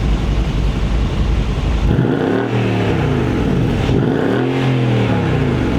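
Close, loud revs from a BMW M6 or Mercedes CLS63 AMG sports car, starting at idle and then two sharp throttle blips that climb and fall back, with no talk over them.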